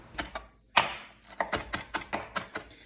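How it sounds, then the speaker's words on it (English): A knife chops cilantro rapidly on a cutting board, about a dozen sharp close taps in an uneven rhythm, no voices. "Now I'm gonna get a fine dice on those onions as I'm chopping up this cilantro"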